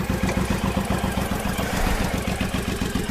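A Suzuki Boulevard C109R cruiser with a 1800cc, 109 cubic inch V-twin runs steadily nearby, a loud, continuous throbbing idle with even low pulses and no break for about three seconds.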